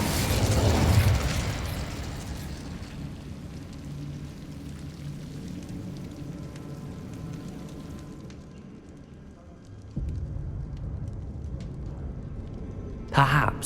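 An Incendio fire spell cast in Hogwarts Legacy bursts out with a loud whooshing blast at the start, then fades into a low rumbling crackle of game ambience, with a sharp pop returning near the end.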